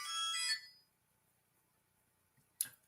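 Mobile phone ringtone cutting into a speaking event, a bright tonal burst in the first half-second that fades out, followed by quiet and a short sharp knock near the end.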